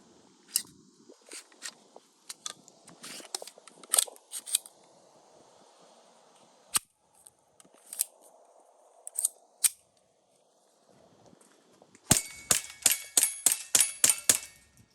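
A suppressed Sig P322 .22 LR pistol fires subsonic Remington rounds, giving sharp, dry cracks that are spaced apart at first and then come as a rapid string of close, loud shots near the end.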